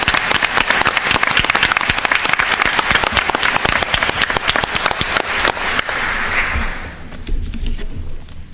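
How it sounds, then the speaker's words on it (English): Dense audience applause fills a school board meeting at Mainland High School, steady and loud for about six seconds before fading into room ambience. "So we just want to give him a round of applause for that."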